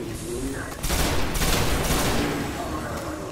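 Rapid bursts of automatic gunfire in the sci-fi shooter Destiny, battling Cabal and Vex, sounding as dense sustained volleys that swell and overlap for a couple of seconds with a voice partly under them.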